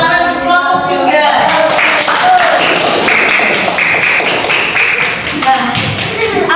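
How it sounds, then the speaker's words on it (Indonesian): Primary school pupils in an Islamic religious education class clap for a group after its presentation. Brisk, uneven clapping from a small group runs throughout, mixed with children's voices and chatter. "berikan tepuk tangan untuk kelompok 3"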